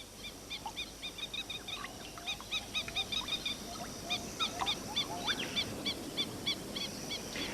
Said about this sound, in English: These handsome birds are really the down-under cousins of European lapwings, and they're just as numerous and just as noisy.